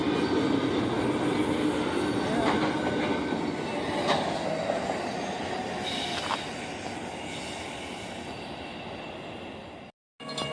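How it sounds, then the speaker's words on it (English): A CSX freight train rolls past in Florida, a steady, loud rumble of wagons with faint wheel squeals and rail clatter running throughout, cut by a brief dropout near the end. "All aboard the CSX Railroad."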